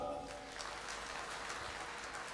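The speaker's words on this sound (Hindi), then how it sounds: "इनके लिए जोरदार तालियां" Faint applause from an audience at an annual company meeting, honoring two presentation-skills participants. A steady patter of clapping runs through the whole short stretch, quiet and somewhat distant.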